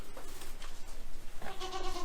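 Goats in a pasture: a rustling, shuffling background, then a clear, nasal bleat rising near the end, close by and fairly loud, with no talking.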